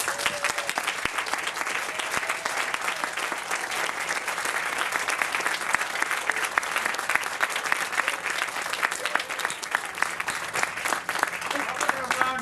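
Steady, dense audience applause for poetry readers at an afternoon reading event, continuous and fairly loud throughout with no break.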